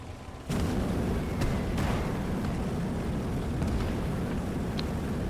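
Heavy booms and explosions roll out in a World War II tank battle from the game Gates of Hell, with a sharp blast at the start, then sustained rumbling detonations and distant cannon fire.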